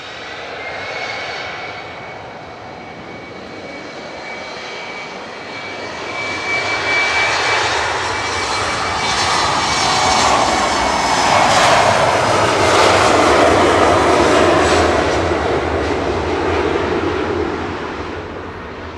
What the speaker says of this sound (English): It's going to be the next departure on 23 left with flight 1169.